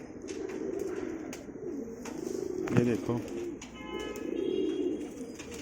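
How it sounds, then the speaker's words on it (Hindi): A pet pigeon coos in low, repeated, rolling bursts close to the listener, with someone speaking softly alongside. "ये मेरा जोड़े वाला कबूतर है"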